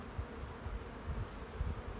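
Honeybees hum low and steady around a hive during a spring cleanup, a faint, continuous buzz with no voices over it.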